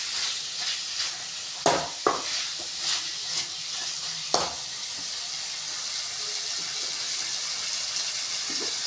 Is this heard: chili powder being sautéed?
yes